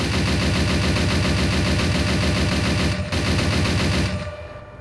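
A WWII machine gun fires from the gunner seat in ArmA 3 with the IFA3 mod, a loud, rapid, continuous burst that barely breaks before trailing off at the end.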